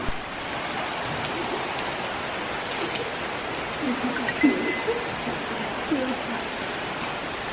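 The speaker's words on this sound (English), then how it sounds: "Quick rain update, it's still raining." Heavy rain falls steadily outdoors near Gimmelwald in the Swiss mountains, a continuous hiss with a few louder drips and splashes standing out near the end.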